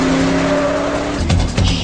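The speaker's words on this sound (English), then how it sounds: "So they have themselves a little car chase" Film car chase in which a car with a loud engine rumble is pursued by a cab, the tires squealing in short bursts near the end over continuous road noise.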